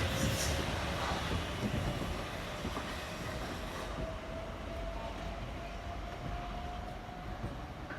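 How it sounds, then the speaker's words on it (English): A Class 350 passenger train runs along the West Coast Main Line toward London, a steady rumble and rolling wheel noise with a faint sustained whine, loudest at the start and easing slightly as it continues. "Class 350 train passes heading into London"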